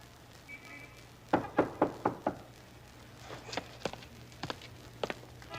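Knocking on a door indoors, a quick burst of five firm raps followed by a looser, softer run of knocks, close by over a faint steady hum.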